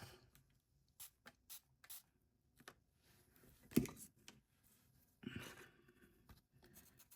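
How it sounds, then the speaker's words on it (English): A spray bottle spritzes water onto a watercolor painting, a few soft, brief hissing puffs among faint brush taps and rustles, quiet and close. "Let me spritz."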